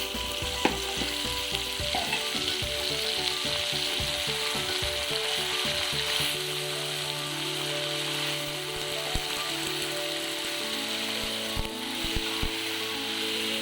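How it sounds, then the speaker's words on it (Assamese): Mutton pieces sizzle and fry in hot oil with turmeric, added after onions for a mutton curry; a busy, continuous crackle with stirring clatter and occasional sharp spatters, close and fairly loud. "মই এতিয়া পিঁয়াজ ভজা শেষ হ'লত মই এয়া মাংসখিনি দি দিছোঁ।"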